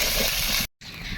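Dried chilli paste hitting hot frying meat masala for a mangsho pitha filling gives off a loud, steady sizzling hiss, which breaks off briefly and then resumes slightly softer.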